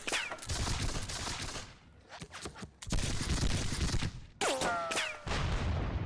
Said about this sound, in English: We continue to exchange fire.